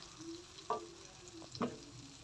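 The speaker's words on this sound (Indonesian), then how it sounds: "untuk bumbunya di sini aku akan tumis sampai benar-benar tanak" Spice paste for spicy shredded tuna sizzles quietly in a pan as it is sautéed, a soft steady frying hiss with two brief scraping stirs of the spatula.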